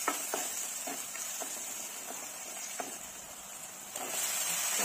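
Onions and brinjal frying with turmeric, red chilli, black chilli, garam masala and coriander powder, a low continuous sizzle with regular spoon scrapes and taps through the pan.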